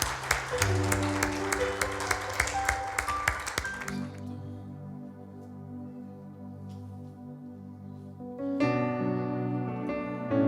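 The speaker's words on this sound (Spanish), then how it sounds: "Dele un fuerte aplauso al Rey." Applause and clapping ring out for the first few seconds over loud music at a Sunday church service, then the music carries on softer with a brief swell near the end.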